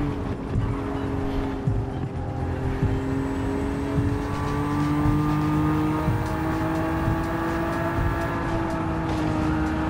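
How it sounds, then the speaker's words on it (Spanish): The engine of a Nissan NISMO 400R in Gran Turismo 7 drones loud and steady, its pitch rising and falling slightly as the car is held on the throttle, with no other sounds over it. "Qué buen sonido de motor."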